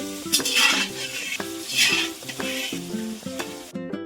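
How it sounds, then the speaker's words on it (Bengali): Fish frying on one stove and potatoes on another in a home kitchen, with steady sizzling broken by repeated clinks and scrapes of utensils against pans, close and fairly loud. "মাছ ভাজা হচ্ছে এক চুলার মধ্যে, আর এক চুলায় আলু ভাজা হচ্ছে।"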